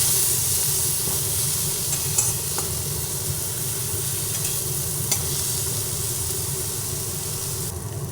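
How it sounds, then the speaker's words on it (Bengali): Ground spices, including turmeric and Kashmiri chili powder, fry together in a pan with a continuous close hiss and sizzle, plus a few soft scrapes from stirring and no voices. "দুটোই দিয়ে দেওয়ার পরে একসঙ্গে আবার ভেজে নিচ্ছি"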